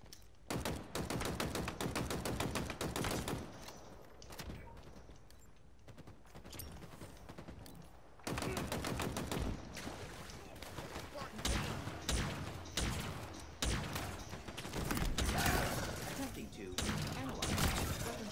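Commando rifle fire in Halo Infinite, rapid bursts of gunshots repeating through the clip amid other game action and sounds, with talk over it.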